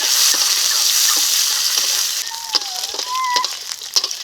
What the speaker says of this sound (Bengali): এখন দিয়ে দিচ্ছি আলু এখন আলুটা তো ভেজে নেব